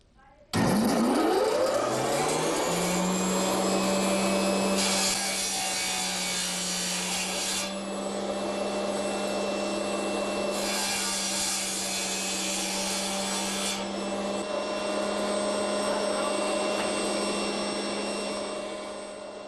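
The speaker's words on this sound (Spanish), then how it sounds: "Voy a descabezar, que es cortarle las partes exteriores del hueso para que salga la grasa que tiene dentro" A motorised saw spins up and then cuts steadily through the ends of bones during handcrafted bone and wood furniture making, giving a loud, continuous whine and rasp that swells in brief bursts of harsher cutting.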